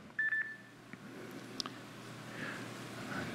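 A short electronic telephone beep sounds twice at the start, then only quiet room noise follows. The tone is faint and a little distant.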